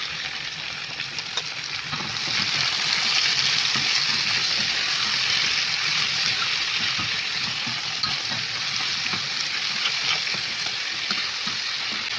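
Hot chili peppers and colorful bell peppers hit a pan with onion and garlic, breaking into a loud, dense frying hiss that holds steady to the end.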